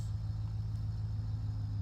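A car engine idles with a steady low hum during a BeamNG driving-game test drive, faint and constant throughout with no voices over it.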